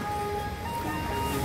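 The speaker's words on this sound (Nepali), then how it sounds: "पानीले कुट्दैछ कि चुट्दैछ" Heavy rain pounding down steadily on an outdoor site where interlocking tiles are being laid, a dense continuous roar with a faint tonal hum running through it.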